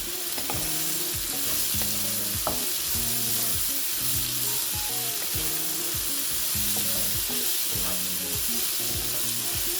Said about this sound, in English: I'll add my black pepper to it and stir it for a while